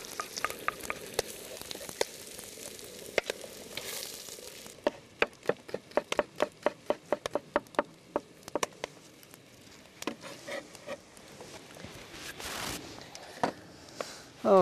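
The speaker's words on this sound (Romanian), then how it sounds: "Iar eu pregătesc repede, repede niște usturoi." A knife chops two garlic cloves on a board in a Bukovina kitchen, giving irregular sharp taps and quick bursts of strikes over a faint background hiss.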